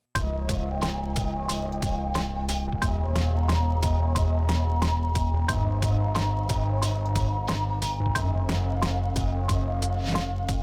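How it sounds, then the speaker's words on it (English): A thick, distorted synth bass drives a steady electronic beat, with sharp percussive hits repeating evenly throughout, loud and continuous. "Let's add some more distortion."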